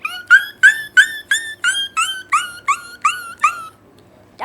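A voice imitates a hurt puppy, giving about eleven evenly spaced high yelping whimpers in a steady rhythm, close and clear before they stop.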